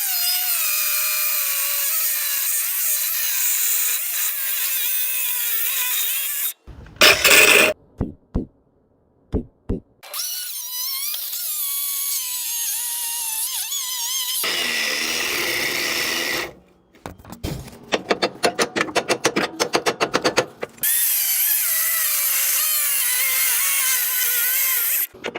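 An angle grinder works on the back side of a vehicle's suspension during an inspection, running in long loud continuous stretches broken by abrupt stops, bursts and catches where the disc hangs up on a piece, with no talking.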